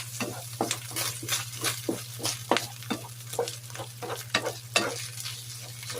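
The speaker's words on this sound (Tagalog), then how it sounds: "igisa lang natin muna maigi hanggang mag-combine yung ano, mag-absorb yung lasa dito sa meat, yung ating onion tsaka garlic" Ground pork with onion and garlic sautéing in a pan, a steady sizzle under repeated scraping and stirring strokes at an uneven rhythm, heard close with a low constant hum behind.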